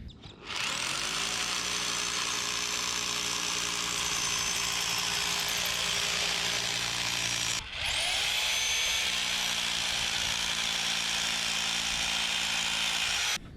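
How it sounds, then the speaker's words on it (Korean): A power drill boring bolt holes at a building site, running in two long, loud, steady bursts with a brief pause between them, close up and with no speech. "제가 이렇게 드릴링을 하면"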